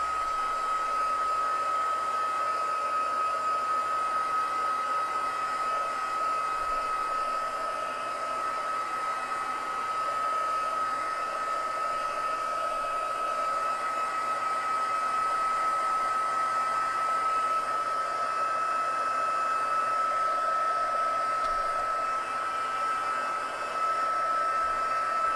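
Handheld heat dryer drying a layer of ink on a craft project, a continuous steady whine and blowing hiss held close and loud for the whole stretch without pause.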